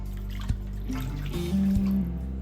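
A cup of water poured into a roasting pan holding prime rib and beef broth, a close, continuous trickle and splash lasting a couple of seconds.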